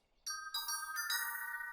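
A cartoon bell sound effect from Mickey Mouse Clubhouse rings out in a quick series of bright metallic dings, each stacking on the last and ringing on clearly with no talk.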